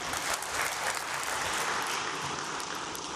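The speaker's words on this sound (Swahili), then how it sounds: "Tujipigie makofi wanachama." Young Africans club members break into steady, dense applause filling the room, a sustained wash of many hands clapping at once with no speech over it.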